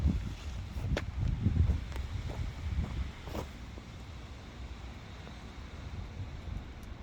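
Wind gusts on a blustery day in an asparagus patch, buffeting the microphone with broad rumbling noise that is strongest early on, then eases to a lighter, steady rush.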